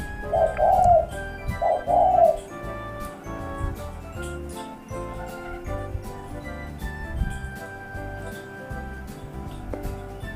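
Two soft, rounded cooing phrases from a spotted dove come close together in the first few seconds, followed by a quieter, steady mix of background noise.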